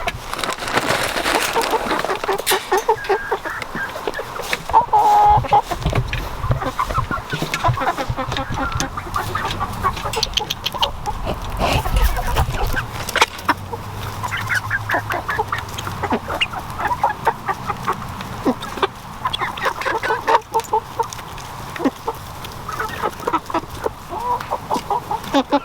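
Chickens and young chicks cluck and chirp continuously on a farm, a busy flock of fowl calling close by with overlapping bursts of noise throughout.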